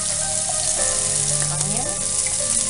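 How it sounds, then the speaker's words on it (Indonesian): Chili, onion and garlic frying in hot oil for a squid and chicken dish, giving a close, even, continuous sizzle with faint stirring touches over a steady background of tonal music; no one speaks. "Now time for frying the chili, onion and garlic."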